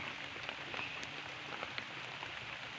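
Light drizzling rain falls steadily on a garden plot where sweet potatoes are being planted, a soft continuous patter with scattered faint drops and no talking.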